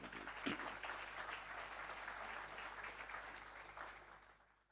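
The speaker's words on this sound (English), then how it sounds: "Could you please give them a round of applause?" Audience at a regional awards ceremony in St. Lucia breaks into sustained applause, a dense steady wash of clapping that holds for several seconds before gradually fading out at the end.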